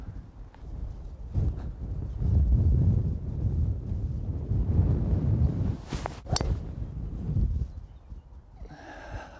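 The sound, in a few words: wind on a golf course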